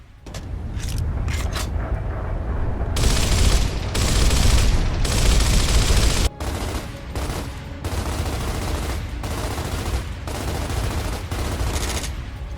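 Lancer assault rifle fire from Gears of War: long sustained automatic bursts, loud and close. The bursts repeat with short gaps between them.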